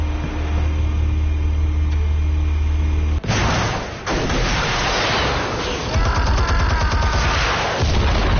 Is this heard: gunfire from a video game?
yes